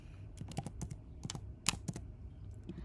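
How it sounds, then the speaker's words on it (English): Fingers typing on a computer keyboard at close range, a quick uneven run of light clicks and clacks with short pauses between bursts. "I'll type in the destination"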